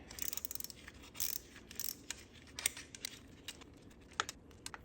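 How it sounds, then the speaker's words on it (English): A 10 mm ratchet tightens a bolt on a block-off plate of a Porsche Boxster M96 engine. Its quick, close clicking comes in short bursts, separated by brief pauses and a few sharper metallic ticks. "Let's tighten it down with my 10 millimeter."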